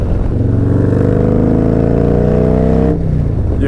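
A Harley-Davidson Milwaukee 8 motorcycle engine with a performance cam pulls hard and loud near 3,000 RPM, its deep rumble climbing steadily in pitch before easing off, with no talk over it.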